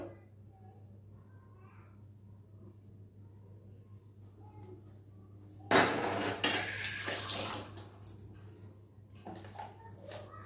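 Boneless chicken pieces mixed by hand with ginger and a tablespoon of garlic paste in a bowl: a quiet hum at first, then about five seconds of close clattering and scraping against the dish.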